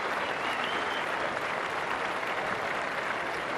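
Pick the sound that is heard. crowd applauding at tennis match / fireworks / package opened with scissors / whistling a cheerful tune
crowd applauding at tennis match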